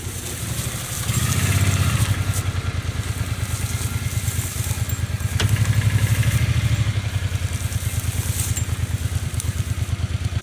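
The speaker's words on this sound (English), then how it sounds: "See if I can get the bike in down through there." A motorcycle engine works its way through dense bush, loud and close, with a steady throbbing idle-like beat that surges in volume twice, without any talking.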